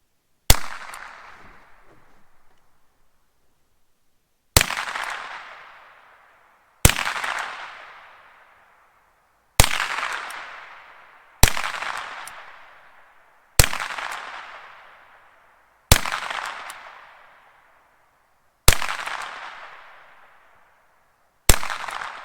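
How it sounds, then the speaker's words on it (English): Nine rifle shots fired at a target, each a sharp loud crack with a lingering decaying echo, spaced irregularly two to three seconds apart with silence between. "We're shooting at the bottom target now."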